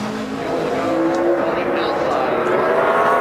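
A NASCAR race car on a 2011 qualifying lap at Bristol roars steadily at close range, its engine note holding loud and even, with a commentator talking over it.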